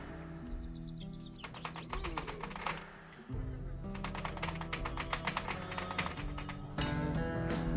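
Hard, fast typing on a computer keyboard during a Prison Simulator game session, with dense bursts of loud clicking keystrokes running nearly throughout and a brief pause partway. A faint bird coo sounds in the background.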